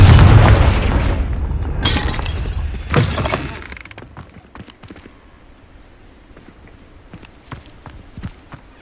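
A Confringo blasting spell explodes in Hogwarts Legacy with a loud booming burst at the start, followed by a second crack and a decaying rumble, then scattered light footsteps and small clatters.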